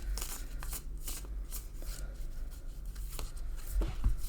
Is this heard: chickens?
no